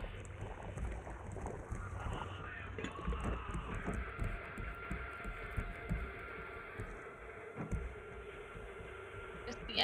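Boat engine in the video game Raft, a steady low hum running continuously under background noise with faint high-pitched tones above.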